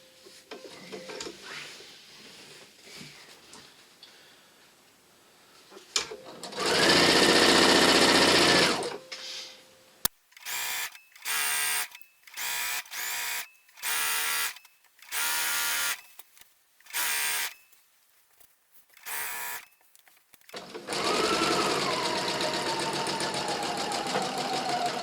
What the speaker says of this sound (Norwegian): Så syr rolig og forsiktig,